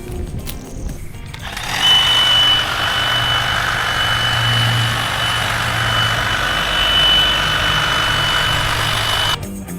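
An EGO 56V brushless cordless 61 cm hedge trimmer runs steadily for about eight seconds at close range, a loud even motor whine starting after a brief quiet lead-in and cutting off near the end.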